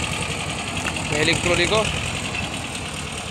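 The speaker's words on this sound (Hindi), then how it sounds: "ट्रैक्टर चला कर ले गया एस्कॉर्ट 335" An Escort 335 tractor hauling a trolley loaded with about 50 quintals of mahili runs at a steady, chugging idle, with someone talking over the engine throughout.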